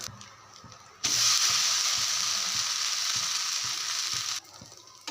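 Ration parboiled rice dosa batter hits a hot stone griddle and breaks into a loud, steady sizzle that lasts about three seconds before cutting off, with quiet background clatter before and after.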